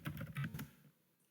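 A quick burst of keystrokes on a computer keyboard, several close, soft clicks in rapid succession as a network command is typed, then a short quiet pause and one last tap.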